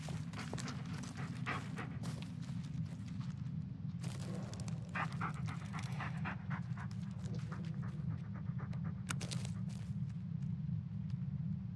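A dog in the Blair Witch video game pants rapidly and rhythmically up close, quick breathy huffs layered over a steady low ambient drone, with some rustling bursts between them and no talking.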